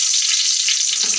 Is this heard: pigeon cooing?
no